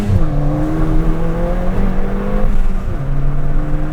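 Stage 1 tuned Ford Fiesta ST pulling hard in first gear, a loud close engine note climbing steadily in pitch with a brief dip around a shift, then rising again, no talk over it.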